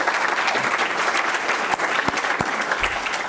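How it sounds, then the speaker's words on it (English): A conference audience at a broadband summit claps steadily throughout, a dense wash of many hands with a few sharper individual claps standing out, fairly loud and without talking. "Round of applause again for everyone."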